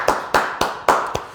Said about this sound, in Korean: 주께 감사와 영광의 박수 올려드리겠습니다